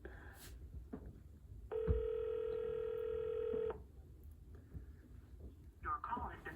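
An outgoing phone call: a single steady ringback tone of about two seconds, moderately loud over a noisy room background with faint voices and small bumps around it.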